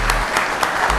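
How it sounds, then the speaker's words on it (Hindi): An audience claps at a comedy show, giving a short, steady burst of dense applause without voices. "इसके लिए तालियां होनी चाहिए सबसे पहले"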